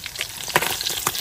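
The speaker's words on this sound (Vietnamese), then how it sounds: "Cá chiên mình cũng chín luôn ha nè." Sand goby fish fry in a pan of hot oil with a soft, steady sizzle, broken by a few sharper crackles and light stirring clicks, fairly quiet and close.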